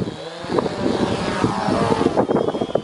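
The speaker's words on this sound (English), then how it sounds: "Mike's gonna fly his drone, and Jamie's gonna fly his drone over the lake" A small camera drone flies over a lake, its propellers giving a continuous whirring buzz that stays close and fairly loud, with faint outdoor background noise.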